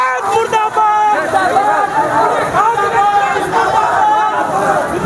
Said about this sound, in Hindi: लगातार नारे लग रहे हैं निशिकांत मुर्दाबाद, निशिकांत मुर्दाबाद, बहादुरगंज पुलिस मुर्दाबाद